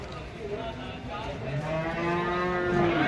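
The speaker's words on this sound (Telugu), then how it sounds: "చూసుకోవచ్చు గేదెలు" Buffaloes at a cattle market low and moo in several drawn-out calls, fairly close, with a busy crowd murmuring behind them.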